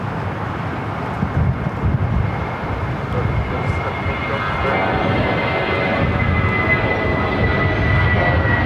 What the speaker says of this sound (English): That was Viva Airbus 511 taking off to Guadalajara on the A320.